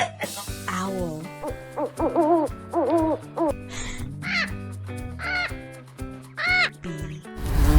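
Repeated owl hoots rise over a bright, bouncy children's music backing track, several short calls spaced across the clip with a final loud burst at the end.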